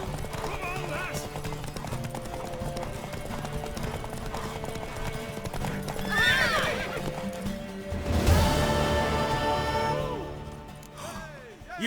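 Horse hooves clip-clop at a gallop with several whinnies from a mare in The Witcher 3, under game music and voices, with a louder crash-like burst near the end.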